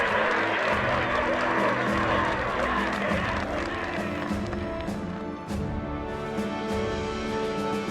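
An arena crowd in the video game Battle Brothers, a dense, loud roar of cheering and clapping that runs continuously throughout, with no one speaking.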